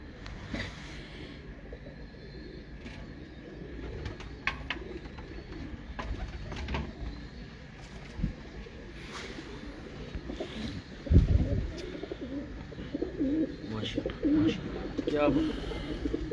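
Breeder pigeons coo softly in a loft, low murmuring calls scattered over a quiet background with occasional knocks and movement, and someone talks briefly.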